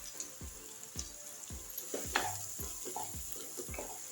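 Garam masala, coriander powder, kasuri methi and whipped milk cream sizzle in a pan for dal makhani, with a soft, steady hiss and a spoon scraping in an even rhythm about twice per second, close and quiet.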